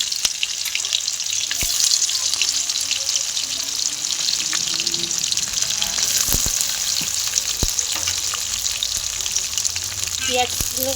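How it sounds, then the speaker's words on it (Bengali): Onions fry in a pan with green chillies, cardamom and cinnamon for chicken kasha, a dense continuous sizzle close up, with occasional clinks and scrapes of a spatula and a few brief faint noises near the end. "পেঁয়াজগুলো ভালো করে ভেজে নেব"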